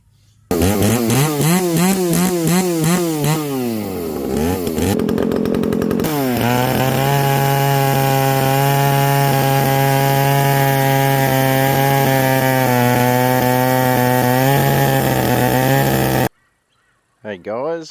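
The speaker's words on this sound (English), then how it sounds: "we're just doing some milling. I've already made a fair bit of dust using the Holzfforma" Holzfforma G372 chainsaw milling wood, loud and close: the engine revs up and down in rising and falling whines, then settles into a long steady high-pitched cutting roar before cutting out abruptly.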